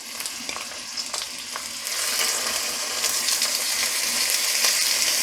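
Meat bones sizzle in hot oil inside a kazan for a pilaf-style soup, a dense, bright frying hiss. Scattered crackles and pops run through it, and the hiss grows louder and fuller after the first couple of seconds, with no voices.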